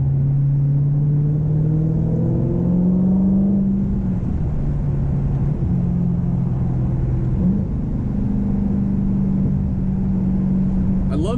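Dodge Challenger R/T, a modded car, revving from a low idle and accelerating in a residential evening setting; a steady deep engine rumble rises and falls in pitch as the revs climb, loud and continuous.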